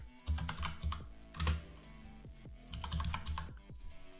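Rapid, irregular clacking of computer keys, with a few heavier thumps like the space bar or enter key, close and clear with no talking.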